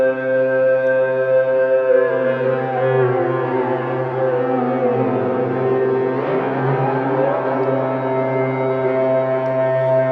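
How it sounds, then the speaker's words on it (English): A sustained synthesizer tone passes through a Sugar Bytes Aparillo spatializer effect, a steady layered harmonic drone with sweeping, shifting overtones that bend and smear around the middle, heard alone without talking. "Hear the spatializer there?"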